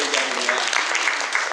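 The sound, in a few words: audience applause for teacher María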